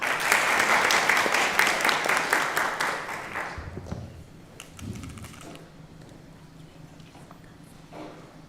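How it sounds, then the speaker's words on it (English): A conference hall audience gives sustained applause for the host, loud and dense for about three seconds before thinning into scattered claps and quiet murmur. "Let's give him a clap."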